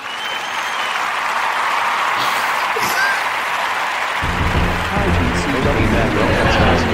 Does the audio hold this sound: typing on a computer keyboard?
no